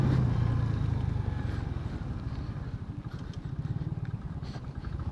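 A 100cc motorcycle labouring uphill on a rough hilly road, its engine a low, throbbing putter with a rapid pulsing beat, steady and fairly close, rising slightly toward the end with wind noise over it.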